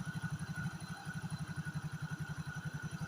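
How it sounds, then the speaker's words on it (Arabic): Motorcycle engine idling steadily up close during air screw adjustment, with a fast, even pulsing thump and a faint high whine throughout, no talking. "انا نقصو على حسب الصوت ديال الموتور"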